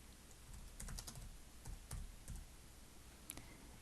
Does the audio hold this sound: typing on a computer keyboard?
yes